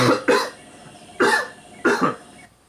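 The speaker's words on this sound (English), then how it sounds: "Yeah, coughing." A person with a sore throat coughs close to the mic in three loud bouts, each a quick double hack, with short quiet gaps between them and no talk.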